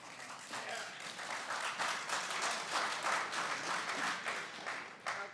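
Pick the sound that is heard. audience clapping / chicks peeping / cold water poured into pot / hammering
audience clapping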